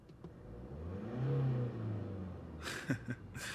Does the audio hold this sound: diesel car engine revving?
yes